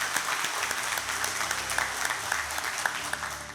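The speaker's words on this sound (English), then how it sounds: "Let's give both teams a well-deserved round of applause" A debate audience claps for both competing teams, dense continuous applause filling a hall for several seconds at a steady, fairly loud level.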